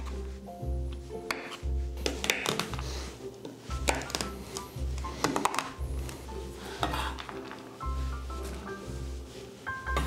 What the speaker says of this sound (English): we're going to chop this up quite roughly so we get all different size bits of chocolate